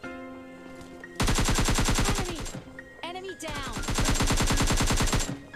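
Sustained automatic gunfire from PUBG Mobile Lite, with two long rapid bursts of evenly spaced shots, close and loud, split by a brief pause with a few tonal in-game effects.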